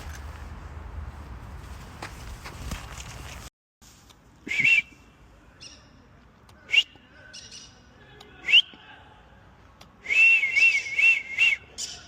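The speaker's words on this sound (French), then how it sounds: "Donc vous voyez, avec le sifflement, ça l'oriente vers moi." A person whistles in short, bright bursts outdoors to call a flying conure parrot, the whistles repeating at irregular intervals over a quiet, faint background.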